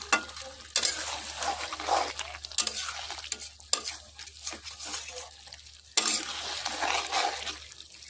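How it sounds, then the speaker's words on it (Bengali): Chicken curry being stir-fried in oil in a pan, with a soft steady sizzle and repeated scraping strokes of a spatula against the pan, fairly quiet and close. "ভালো করে কষাবো 10 থেকে 15 মিনিট।"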